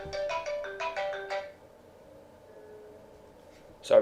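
A morning alarm ringtone plays a short run of rapid bright beeping tones, then fades to a quiet hum before a loud burst returns at the end, with no one speaking over it.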